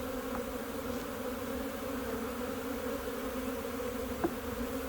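Honeybees swarm and buzz steadily around an opened hive during an April inspection. The drone is continuous and close, with a faint click near the end.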